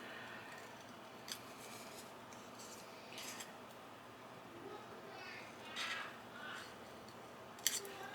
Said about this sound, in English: Let me cut around it a little bit more.